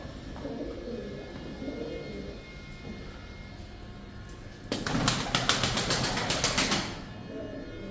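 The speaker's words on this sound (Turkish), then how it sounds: "Kuşlarımız böyle. Şu an çok rahat." Pigeons coo softly in a coop under a steady background hum, and a loud flurry of flapping wings bursts out midway before the low cooing returns.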